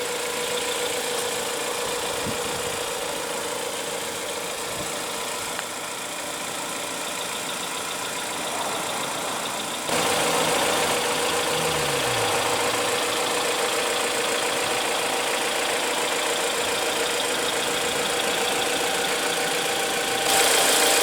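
A 2016 Jeep Cherokee's 2.4-liter MultiAir inline four-cylinder idles with a steady, even hum that grows slightly louder partway through.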